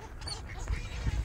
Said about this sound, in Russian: Уточка схватила кусок хлеба, и ее атаковали чайки.